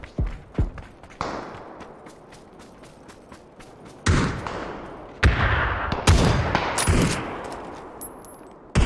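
Revolver gunshots in the video game PUBG, several sharp, loud cracks with decaying echoes spaced irregularly among other game sounds.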